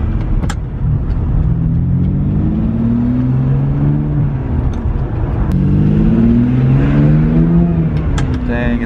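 Ferrari 575M with a six-speed manual gearbox, V12 engine and Tubi exhaust accelerating, a loud, steady engine drone with rising pitch sweeps as it pulls through the gears from inside the car.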